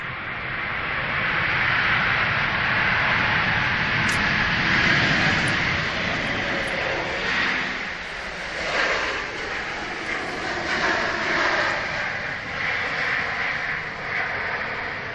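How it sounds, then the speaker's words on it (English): A Pegasus Airbus A321 at Manchester Airport gives off a steady, broad jet roar at moderate distance, swelling and easing slightly throughout with no voices. "This is Pegasus. Nice. From Istanbul Airbus A321."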